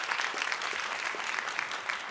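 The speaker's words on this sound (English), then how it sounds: "give Thomas Battles, president of Kappa Alpha Psi, a round of applause as well for being here" Audience applause at a gathering, a broad dense wash of clapping hands held at an even, fairly faint level throughout, with no pauses.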